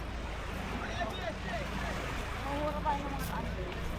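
A passenger boat heading out for island hopping, its steady broadband rumble of engine, water and wind running throughout, with talk faint beneath it.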